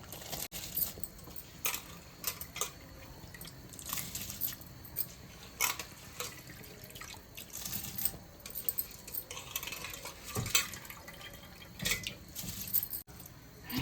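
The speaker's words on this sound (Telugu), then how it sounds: "ఇదిగోండి బాస్మతి బియ్యం 3 గ్లాసులు అన్నాను కదా, కడిగేసి అరగంట ముందు ఉంచాను. ఇప్పుడు దీంట్లో వేసేస్తున్నానండి" Soaked basmati rice tipped into a biryani pot, giving a steady granular rattle and clatter with sharp clinks of a vessel or spoon, close and fairly quiet, with no talking.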